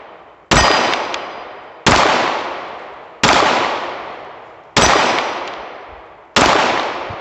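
A Canik TP9sa pistol fires at a steel target, five loud, sharp reports spaced about one and a half seconds apart, each followed by a long ringing decay from the struck steel.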